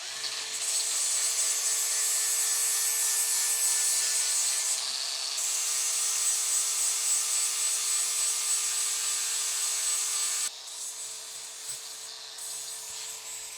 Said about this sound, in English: I'm just going to use my battery powered angle grinder here with a flap disc.